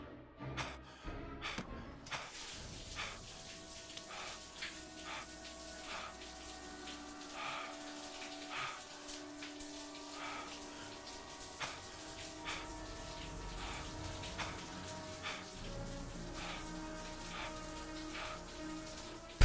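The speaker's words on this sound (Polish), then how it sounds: "Zimny prysznic mnie ocuci." A cold shower running in the Heavy Rain video game, a steady hiss of spraying water that carries on throughout, with scattered drip-like clicks over it and a few sharper knocks at the start.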